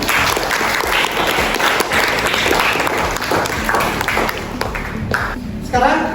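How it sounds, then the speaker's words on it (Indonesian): A classroom of students claps together in a brief burst of applause, steady and close, fading slightly toward the end. "Tepuk tangan."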